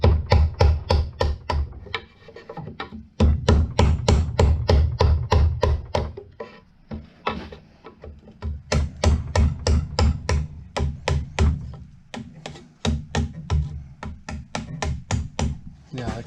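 Steel chisel driven by a metal-ended mallet into porch roof truss timber, a steady run of sharp, loud knocks in quick bursts with brief pauses, close by, and someone talking between some strikes.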